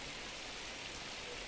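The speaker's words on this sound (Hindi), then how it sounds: "यह तस्वीर आप देख सकते हैं सिवान शहर की है, जहां आसमान में काले काले बादल के साथ हल्की हल्की बारिश" Light rain falls over the city of Siwan in Bihar under dark clouds, a steady, even hiss of drizzle with no other sounds.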